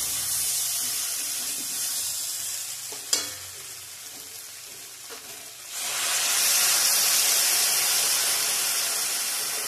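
Hot water goes into a pan of fried spices for a rohu-style bata fish curry with potato and cauliflower, a quiet sizzle with a sharp clatter, then a loud rushing hiss of steam and bubbling that holds to the end.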